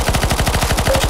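Rapid automatic gunfire from the CS:GO Zombies map Deadcore in extreme mode, a close, loud, evenly spaced burst of shots lasting about a second with no talk.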